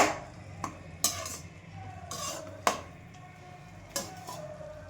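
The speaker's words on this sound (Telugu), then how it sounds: "ఓకే, ఫస్ట్ మూత పెట్టాను" A metal lid set onto a pot of tomato chutney in a home kitchen, giving several sharp clinks and clatters spaced over a few seconds, close and fairly quiet against a low background hum.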